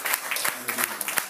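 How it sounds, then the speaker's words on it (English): A church congregation claps their hands in a quick, steady rhythm, with sharp individual claps close by and talk mixed in. "With a clap of hands."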